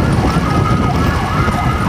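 Emergency ambulance siren wailing loudly and close with a rising and falling tone, heard over road and engine noise while the vehicle travels to a hospital.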